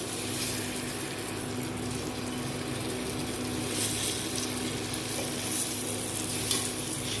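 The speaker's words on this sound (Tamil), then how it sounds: "இதை முட்டையை நல்லா ஆட் பண்ணிவிட்டு நல்லா இதை கிண்டி விடுங்க." Eggs stirred into biryani masala frying in a pan, a dense continuous sizzle with soft stirring scrapes throughout, close and fairly loud, with no voices.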